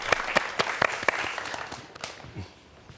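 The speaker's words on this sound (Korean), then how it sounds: "여러분 박수 한번 부탁드리겠습니다." A lecture audience at a talk on drones and transforming robots gives a short round of applause, with scattered distinct claps that thin out and fade within a few seconds.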